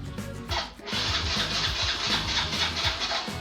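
A fuel-injected Yamaha Fino scooter's engine is cranked with the electric starter, a close, chugging starter whir in quick repeated pulses after a brief pause, without catching into a steady idle.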